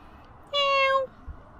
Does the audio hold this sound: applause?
no